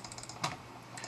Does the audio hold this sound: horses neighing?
no